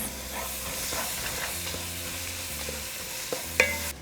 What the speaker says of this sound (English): we're going to throw in our onion, celery, and carrots. Now we're going to cook them for about 3 minutes